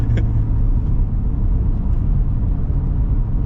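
Cadillac CT5-V Blackwing 120th Anniversary Edition engine driven through a chicane, a loud, steady low rumble from inside the car with a brief higher blip near the start.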